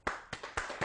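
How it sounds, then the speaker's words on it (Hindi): Quick hand claps, about four sharp strikes under a second, sound in a TV talk-show studio as a guest is welcomed. The claps are moderately close and there is no talking over them. "मैं इनके लिए तालियां बजा रहा हूँ"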